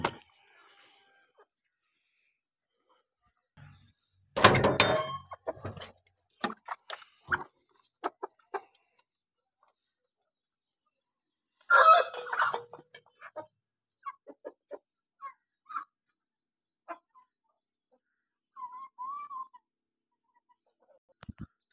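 Desi hens cluck in scattered bursts against near silence, with a few louder flurries and short pauses between calls.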